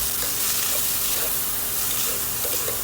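Ground pork mince and shrimp paste sautéing in a hot pan for Filipino laing, with a steady broad sizzle and the occasional scrape of stirring, loud and close with no talking.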